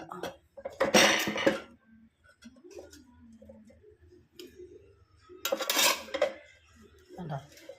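A few clinks and scrapes of meat, dry-fried without oil, being dropped into a metal dish, in two short bursts, with quiet talking in between.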